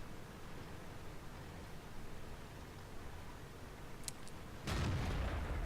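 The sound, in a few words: tank gun firing in a tank video game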